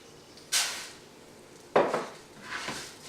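A cup of arborio rice tipped into a pan of melted butter and a little olive oil over medium heat. Two quick, close rattling rushes are heard, with a softer shuffle at the end, and no one speaks.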